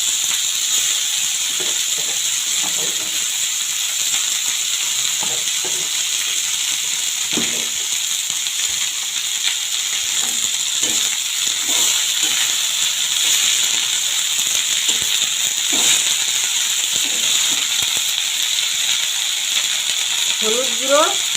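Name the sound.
fenugreek greens sizzling as they are added to the pan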